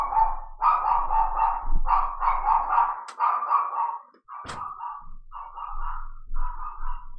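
A female dog barks insistently in rapid bursts, a run of sharp, fairly loud barks with brief pauses between groups, close by indoors with no talking.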